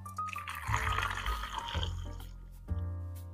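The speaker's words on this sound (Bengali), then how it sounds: "ঠান্ডা করার জন্য পানি দিয়ে দিচ্ছি" Water is poured over freshly boiled eggs to cool them, splashing and trickling in a steady run with a few sharper bursts, close and fairly soft.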